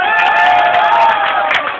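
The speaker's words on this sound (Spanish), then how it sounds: "Un aplauso para ellos, por favor." Crowd at a youth sports club championship celebration in Queens, New York, applauding and cheering loudly and steadily for nearly two seconds, with scattered shouts rising above the clapping.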